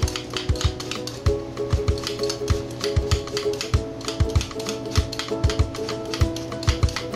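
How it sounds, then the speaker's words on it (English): An apple being peeled with a hand-cranked corer/peeler, producing a steady run of close, sharp tapping and clicking knocks over a faint mechanical hum, with no talking. "So now I take this core or peeler and I'm going to peel this apple."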